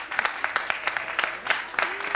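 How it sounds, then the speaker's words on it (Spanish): A studio audience on a lunchtime television talk show claps sparsely and unevenly, with individual hand claps standing out in loose bursts rather than a full ovation, fairly soft and close. "aplauda porque merece el aplauso"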